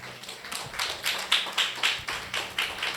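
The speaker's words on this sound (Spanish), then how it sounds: "Aplauso para Dios." A church congregation claps in a rhythmic beat, a steady pattern of sharp handclaps roughly every quarter second, moderately loud and without speech.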